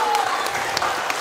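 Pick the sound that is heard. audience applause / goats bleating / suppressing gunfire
audience applause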